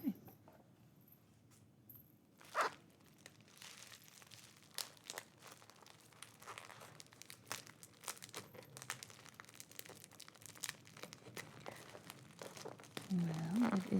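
Crinkly plastic packaging of an earring mystery box rustles and crackles in bursts up close, with occasional louder tears and rips, fairly quiet overall.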